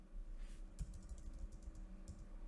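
Fingers tap out a short command on a computer keyboard at a command prompt, a quick run of light, close clicking keystrokes with small pauses, quiet and with no one speaking.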